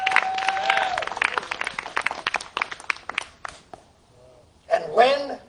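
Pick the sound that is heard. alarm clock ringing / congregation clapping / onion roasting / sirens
congregation clapping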